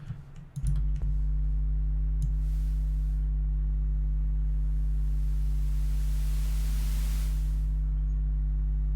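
A synthesized sub riser built in FL Studio, with white noise routed through a filter: a few soft clicks, then a deep steady sub drone with stacked low hum tones, while a faint hiss swells and fades above it.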